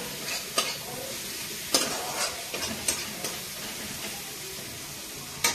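Fish fries in mustard oil in a home kitchen, giving a steady close sizzle broken by a few sharp clinks and stirring bursts from the pan.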